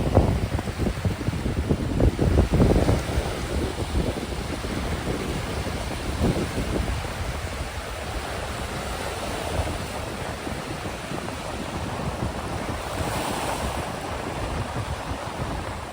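Steady wind at a lakeshore near Marquette, Michigan, gusting across the microphone, with a broad rushing roar and low buffeting that swells louder early on, then settles into constant blustery noise.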